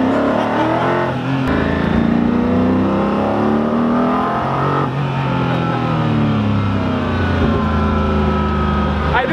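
A Koenigsegg Agera RS supercar engine pulls hard under light throttle, a loud, dense roar with rising and falling harmonic sweeps as it accelerates, heard continuously from inside the car.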